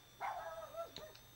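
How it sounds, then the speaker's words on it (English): A dog being hurt in the video game Rule of Rose gives a brief, fairly faint high whimpering yelp that slides downward, followed by a couple of small sharp sounds. "They're hurting the doggy."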